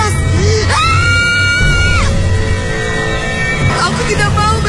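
A woman screams loudly in a radio horror drama, with long sustained shrieks over a dense, noisy background of effects and music and a second cry near the end.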